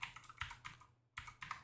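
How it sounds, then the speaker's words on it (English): Typing on a computer keyboard while entering a network camera's address by hand, quick clusters of close key clicks in two bursts with a short pause between, no voices. "we're just gonna type it in manually"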